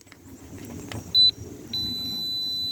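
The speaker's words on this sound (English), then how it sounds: "And you're going to get a beep just like you're testing a fuse out of every one of them." A Harbor Freight multimeter set to continuity mode beeps while probing an ignition coil on a Ford Triton 5.4L V8: a short steady tone, then a longer sustained beep over faint background hum.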